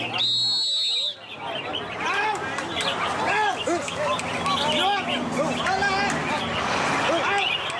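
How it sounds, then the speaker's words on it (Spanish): Many songbirds sing together at a popular bird-singing contest in southern Thailand, with dense overlapping chirps and whistled phrases. A crowd murmurs and cheers underneath, and traffic noise blends into the background. "un concurso de canto de aves muy popular en el sur"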